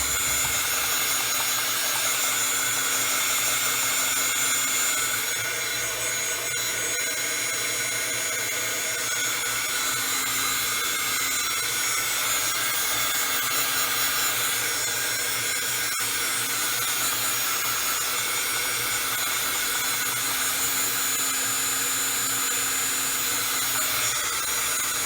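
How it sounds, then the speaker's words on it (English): A heat tool runs steadily for the whole stretch while setting ink on a card-making project, a continuous close blowing whir with no talking over it. "Let me heat set this"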